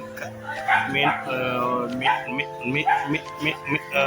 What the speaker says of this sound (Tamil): நாயை பாருங்க சண்டை பிடிச்சி கத்தி கொண்டு நிற்க பாருங்க